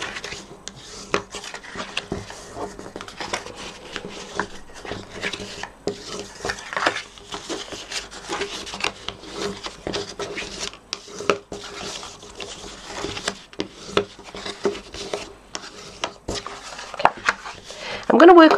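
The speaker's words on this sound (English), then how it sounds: "I'm going to take my bone folder and I'm going to burnish these folds" A bone folder rubbed firmly along scored paper folds of a treat box, giving repeated short, close scraping strokes with light taps of handling between them.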